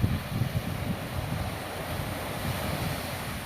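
Sea waves wash onto a quiet beach at a laid-back resort in Krabi, Thailand, a steady low surf rumble with gentle surges, mixed with wind buffeting the microphone and no voices.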